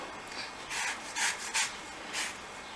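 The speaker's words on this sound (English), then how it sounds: "And you will kind of grate the lemon." Lemon being grated for lemon bars, heard as four short, close, bright rasping strokes spaced unevenly, each a dry scratchy swipe with quiet pauses between.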